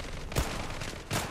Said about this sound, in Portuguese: O cara tomou uns 4 tiros de pistola e não morreu